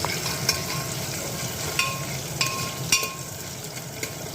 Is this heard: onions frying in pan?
yes